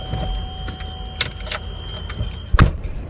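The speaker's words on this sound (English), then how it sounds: "Taking the keys, you'll be fine." Keys jangle in a few light metallic rattles inside a U-Haul truck cab, ending in a louder clunk, with a steady electronic tone humming underneath.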